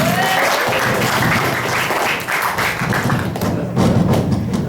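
A school audience at an Indonesian-language practical exam seminar opening at SMA N 1 Purworejo claps loudly and continuously, with heavy, thumping hand claps filling the room from start to finish.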